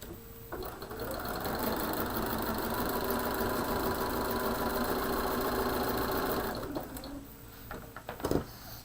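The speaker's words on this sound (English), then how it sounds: "I'm going to sew those two together." A sewing machine runs in one continuous loud whirring stretch as two fabric pieces for a cushion are stitched together, then stops, leaving a few small clicks and handling noises.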